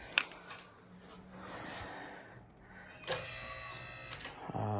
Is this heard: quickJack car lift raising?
yes